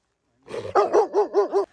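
A dog barks close by outdoors on a snowy family walk, starting with a low growl that gives way to four quick, loud barks in a steady rhythm.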